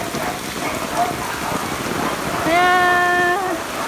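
Heavy rain pours steadily during Super Typhoon Carina in the Philippines, a dense continuous downpour hiss, with a short spoken word and a brief tonal sound partway through.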